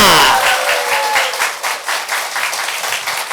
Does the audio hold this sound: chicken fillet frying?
no